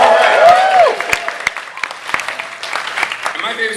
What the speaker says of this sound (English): a round of applause for superheroes